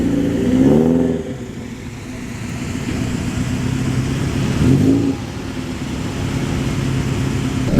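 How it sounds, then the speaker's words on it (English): A 105e Ford Anglia classic car rolls into an outdoor car show, its engine humming steadily nearby with two brief revs that rise and fall, and no voices over it. "Next to roll into this great car show is the 105e Ford Anglia."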